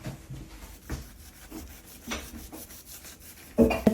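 A knife works through a whole jackfruit, giving a scattering of dull rasping scrapes and soft thuds with a louder crunch near the end, close up and without talking.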